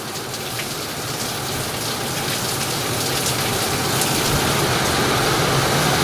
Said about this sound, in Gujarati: વરસાદ ફૂલ ચાલુ થઈ ગયો જોઈ લો